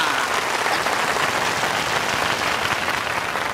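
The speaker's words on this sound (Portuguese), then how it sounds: "Uma forte salva de palmas para ela!" Dense, steady applause from a game show studio audience for a prize winner, a continuous wash of clapping at even loudness with no talk over it.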